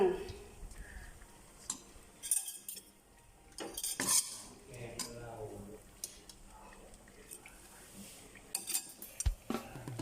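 A spoon scrapes and clinks against a pan and plate while a cooked tamarind leaf dish is served, with scattered sharp taps amid quiet speech.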